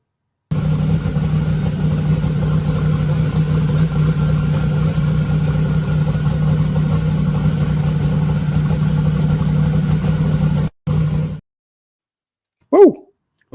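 A street race car engine idles with a loud, steady, deep rumble for about ten seconds before cutting off abruptly, followed by a brief voice afterward.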